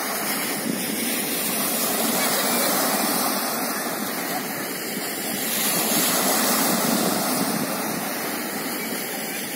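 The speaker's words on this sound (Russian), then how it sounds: "Это вот у нас танчик плещется." Water sloshes and splashes in a small tank, a continuous, even rushing wash that holds steady for the whole stretch with only slight swells in loudness.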